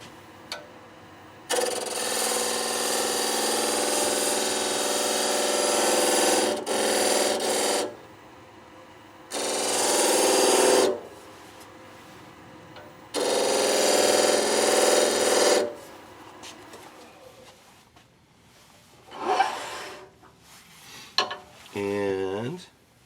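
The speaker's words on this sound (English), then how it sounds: "we're not going to use the same speed to chafer this as we did to drill it out" A power tool runs at a higher speed to chamfer the edge of a shaving brush handle, sounding as three loud sustained whirring bursts separated by short pauses, followed by quieter handling noises near the end.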